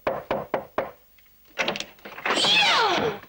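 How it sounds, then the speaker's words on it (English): Four sharp knocks on a door in a steady rhythm, close and distinct, followed by a pause, then further thumps and a swelling whoosh-like noise. "So he knocks on the door."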